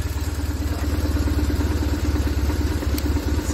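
Close BMW 1150 GS motorcycle engine idling at about 1000 RPM, not yet fully warm, with a steady, rapid low-pitched throb and mechanical clatter, no talking.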